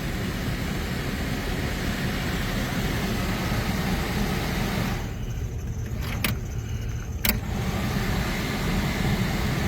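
Broadband engine noise from a running 1982 Jeep Wagoneer in very cold weather, loud and steady, with a brief dip and two sharp clicks partway through.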